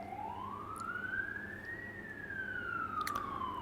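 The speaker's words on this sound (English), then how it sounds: "We got some sirens going on outside." A wailing siren rises and falls in pitch, somewhat distant and muffled, heard alone against a low steady background hum.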